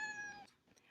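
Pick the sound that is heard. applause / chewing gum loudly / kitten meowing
kitten meowing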